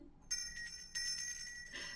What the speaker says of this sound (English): don't forget the notification bell